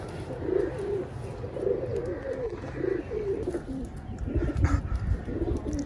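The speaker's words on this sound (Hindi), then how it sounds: "ये दोस्तों अपने कुछ कबूतर है" Several racing pigeons cooing in a repeated, rolling rhythm, close and steady, with faint rustling and background noise.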